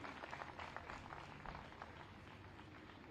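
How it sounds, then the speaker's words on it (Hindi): Steady applause from an audience welcoming dignitaries at the inauguration of a book festival in Lucknow, a soft continuous patter of many hands, fairly distant and even throughout. "एक बार तालियों के साथ सभी गणमान्य अतिथियों"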